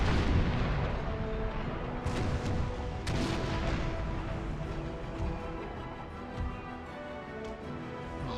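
Naval cannon fire in Empire: Total War, Great Britain's ships trading broadsides, dense rumbling booms with a couple of sharper reports standing out over a constant battle roar and music.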